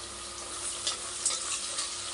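Green chillies fry in a pan with a steady crackling sizzle, punctuated by a few brief louder spits and stirring scrapes, with no one talking.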